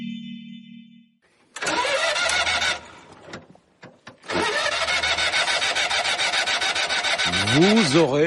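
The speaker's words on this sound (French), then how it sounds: "Vous aurez peut-être reconnu le bruit de cette voiture mythique et cette année c'est son 60e anniversaire, la 2 chevaux de Citroën" A Citroën 2CV's small engine starts up and runs with a loud, steady buzzing drone, broken by a brief sputter before settling into a continuous rattly idle that rises in pitch near the end.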